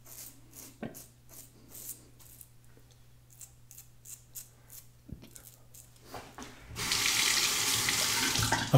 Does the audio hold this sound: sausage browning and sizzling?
no